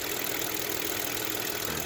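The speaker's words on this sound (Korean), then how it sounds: "얘는 그런 거 없이 굉장히 정숙한 상태 한번 들려드릴게요" A used Kia New Opirus with a V6 engine idles very quietly under the hood, giving a steady, smooth, low hum with no ticking, heard close and alone.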